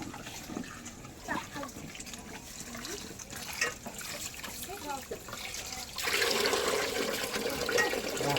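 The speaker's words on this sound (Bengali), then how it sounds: "হ্যাঁ এবার আবার এটাকে ধুয়ে নিতে হবে।" Tap water runs and splashes over peeled hog plums being washed in a home kitchen. It starts after several seconds of conversation and continues as a steady, close rush to the end.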